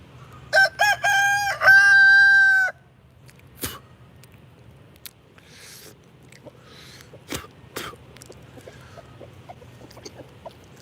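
On a farm, a rooster crows loudly and close by in a couple of quick bursts. Scattered soft clucks, clicks and rustles follow against quiet outdoor ambience.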